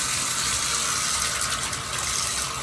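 A low-flow hotel shower head at a Comfort Inn & Suites in Dover, NH runs hot water in a steady bright hiss of spray, constant and close, with no voices.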